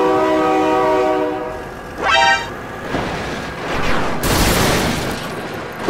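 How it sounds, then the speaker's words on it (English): A loud, close train horn blasts in a long sustained tone, then a second short toot follows amid rumbling wheels and rushing noise, in the BeamNG Drive driving game. "my god, train!"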